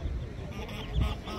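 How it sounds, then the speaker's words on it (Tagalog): Geese honk in a continuous, overlapping chorus nearby at Aspire Park in Doha, Qatar, a louder burst near the end, with no voices. "So, ayan yung mga gansa."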